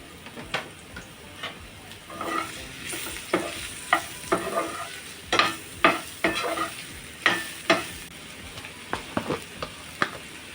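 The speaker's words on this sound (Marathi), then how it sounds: "त्याच पॅनमध्ये चमचा तेल टाकून घ्यायचं आहे आणि मशरूम आपण कट करून घेतले ते पण तशाच प्रकारे परतून घ्यायचे" Cut mushrooms sautéing in a spoonful of oil in a pan for mushroom masala, with a steady sizzle broken by repeated sharp scraping and stirring strokes of a spoon. No one speaks over it.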